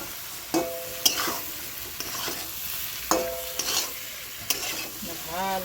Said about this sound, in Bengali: তেল ছেড়ে আসছে, এখন পটলগুলো আমি ছেড়ে দিচ্ছি।